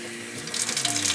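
Water running from a tap into a kitchen sink in a luxury Knightsbridge apartment, a soft hiss swelling into a steady splashing stream, close and alone.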